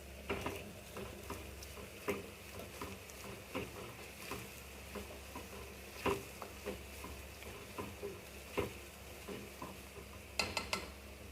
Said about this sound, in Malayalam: അപ്പോൾ ഞാൻ വേവിച്ച് വെച്ച പീസൊക്കെ ഇതിലെടുത്തിട്ടു ഈ മസാലയിൽ.